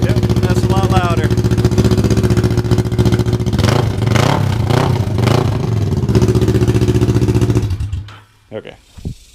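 A motorcycle with an open header and no muffler runs loud and close, with a few sharp revs and throttle blips in the middle, before the engine cuts off and falls quiet with brief clatter at the end.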